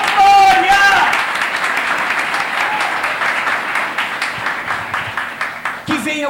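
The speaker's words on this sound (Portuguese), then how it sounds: "Pode aplaudir, igreja, pode aplaudir, em nome de Jesus." A church congregation breaks into sustained applause, a dense wash of many hands clapping that swells loudly at first and then holds steady, while a preacher's voice carries over it.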